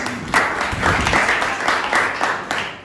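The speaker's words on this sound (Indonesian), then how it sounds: "Berikan tepuk tangan untuk kelompok ini." A classroom group applauds a student group after their presentation, a dense, even patter of many hands clapping at once with a few sharper claps standing out.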